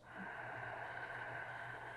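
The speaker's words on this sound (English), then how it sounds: "Ujjayi inhale through the nose." An audible Ujjayi yoga inhale through the nose makes a close, soft, hissing draw of breath that rises quickly and holds steady for about two seconds, with no talking.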